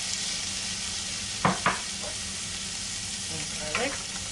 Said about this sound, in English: So we're going to start getting some olive oil in our pot and getting our onions and